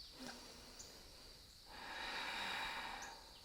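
A deep, slow exhale held through a yoga plank, a soft breathy rush that swells and fades over a couple of seconds, close and quiet, with no talking.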